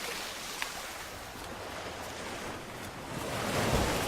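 Ocean waves wash steadily up a shore in a continuous broadband rush that swells louder toward the end, with no voices present.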